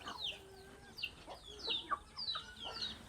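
Domestic chickens kept at a rural home cluck in short bursts, several birds calling close by at irregular intervals against a quiet outdoor background.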